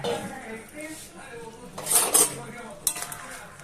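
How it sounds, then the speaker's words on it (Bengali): A metal pot lid clatters as it is lifted and pabda fish pieces drop into a simmering pot of potato and brinjal curry, giving a couple of bright clinks and a soft splash amid low kitchen noise. "এবার আমি ঢাকনাটা তুলে ফেললাম। ঢাকনাটা তুলে মাছগুলো দিয়ে দিলাম"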